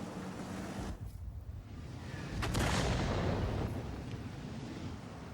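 World of Tanks artillery fire: a deep rumbling boom swells midway over a constant roaring battle-noise bed, loud and close, with no talk.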